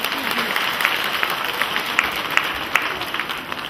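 An audience at a 2007 Caravela Culturii cultural event in the village of Pânzăreni, Fălești district, applauds with a dense, steady burst of many hands clapping, a few sharper claps standing out.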